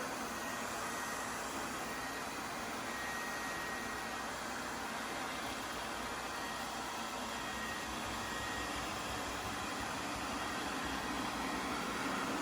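A steady, even whirring hum with a broad airy hiss runs unbroken throughout from an OKP Life K2 robot vacuum cleaner working nearby.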